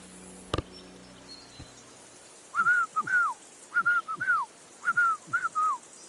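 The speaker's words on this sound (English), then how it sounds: "Your whistling is getting on my fucking nerves the whole way." A game character in Kingdom Come: Deliverance II whistles a short, bright tune in several quick phrases, each a rising-then-falling note, heard close and clear over a quiet background after a brief knock.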